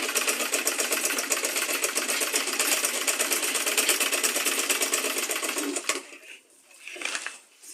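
A sewing machine stitches a tote bag in a fast, even mechanical chatter for about six seconds, then stops, leaving quieter handling noises.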